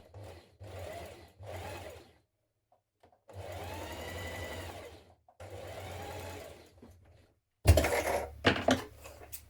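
Sewing machine stitching darts in a Liberty print frill dress, running in four steady whirring bursts separated by pauses, then a brief rattling clatter near the end.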